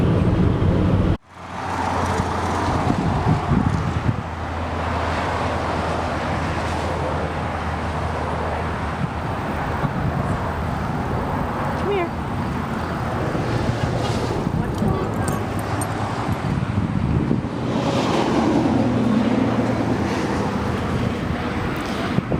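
A car cruises on a highway in Virginia on a road trip to Tennessee, with a steady, moderate road and tire roar and low engine hum inside the cabin, continuous for about twenty seconds.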